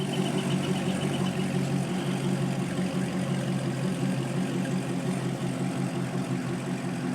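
A Chevrolet Corvette engine running steadily at idle nearby, a continuous low rumble with an even throb and no pauses.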